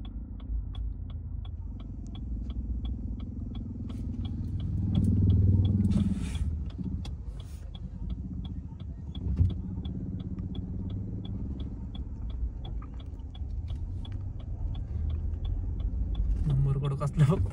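A modified Maruti Suzuki Baleno drives along a road at a car meet-up in Pune, giving a steady low engine rumble with faint rhythmic ticking throughout and voices talking over it.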